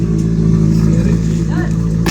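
A motorcycle engine revs loudly and close by on a road trip to Vigan, with a steady buzzing mid-pitched drone and a slight rise and dip in revs over about two seconds.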